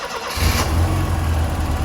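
A Ford Fiesta RS Turbo, found in a garage after sitting 17 years, cranks on the key and fires up, its engine settling into a loud, steady idle close by with no talking.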